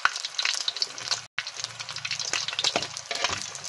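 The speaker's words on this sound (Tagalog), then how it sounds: "napiprito ako ng isda ng daing dito sa lutuan ko" Dried fish (daing) frying in an old pan gives a continuous close crackling sizzle with scattered pops and spatters, steady throughout apart from one brief break.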